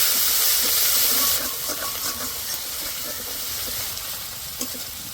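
Onion paste from two medium onions fries in hot oil, giving a loud, dense hiss that settles into steady sizzling with soft spatula stirring, close up and without speech.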